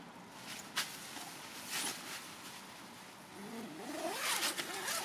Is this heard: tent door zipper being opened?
yes